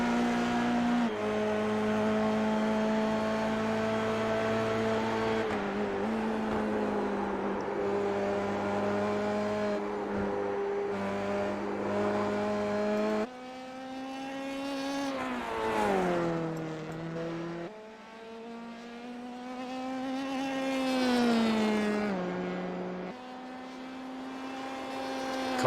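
A Dallara F3 race car engine screams around Spa in a racing game, a steady high-pitched drone that rises and falls as the car shifts gears through fast, sweeping corners, loud and close throughout.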